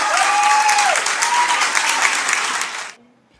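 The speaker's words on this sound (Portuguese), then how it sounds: "Un aplauso grande para Javier," Loud, sustained applause and cheering from a large crowd at a political rally in Argentina, a thick roar of clapping with whistles on top that cuts off abruptly near the end.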